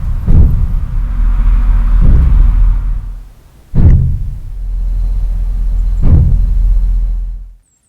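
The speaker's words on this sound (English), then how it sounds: "that is the sound of the gas tank expanding and contracting" The fuel tank of a GM OBS Chevy truck pops and thumps while driving, a few loud low booms spaced a couple of seconds apart over steady road and engine rumble.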